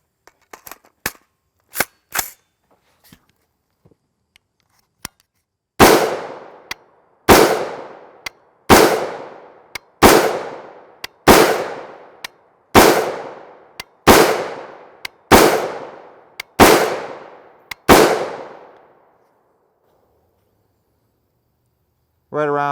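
A 7.5 inch PSA build rifle firing 5.56x45mm 62gr FMJ M855 rounds outdoors: about ten loud, sharp cracks at an even pace of roughly one per second, each with a ringing decay, preceded by scattered faint clicks and light handling taps.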